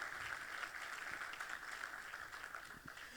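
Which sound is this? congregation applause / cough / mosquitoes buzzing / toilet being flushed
congregation applause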